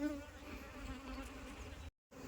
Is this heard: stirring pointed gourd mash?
no